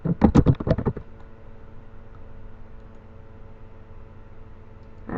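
Quick burst of typing on a computer keyboard for about a second of close clicking keystrokes, then quiet room hum.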